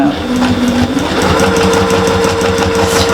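A sewing machine stitches a single row through fabric for a wrap, producing a loud, close, steady whirring hum with a rhythmic mechanical pulse across the whole span, with a voice talking over it.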